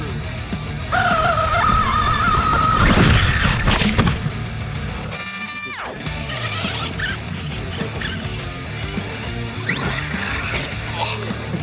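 An Arrma Kraton RC car on its first run tears across rough ground, its motor whining loudly and steadily over gravelly crunches, skids and clattering bumps, with brief dips in between.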